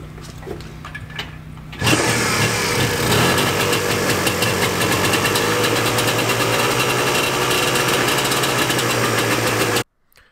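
A moped with a freshly cleaned carb and new fuel hoses, in a hot garage, starts after a quiet moment and settles into a loud, steady, buzzing idle close by, then cuts off abruptly.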